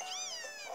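A cat meows in the Pokémon Sun video game, one drawn-out, rising and falling high cry lasting under a second, clear and close with no talk over it.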